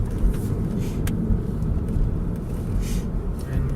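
Car driving along San Francisquito Canyon Road, a steady low engine and road rumble heard from inside the cabin, continuous and fairly loud with no voices.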